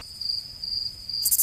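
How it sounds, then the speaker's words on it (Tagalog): Crickets chirp in a steady, high-pitched trill that runs continuously and close, with no voices. "mga kuliglig, mag-ingay!"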